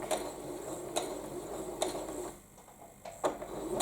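A sewing machine quilting hums continuously at close range while stitching forward and back, with a few sharp clicks and knocks at irregular intervals over the running motor.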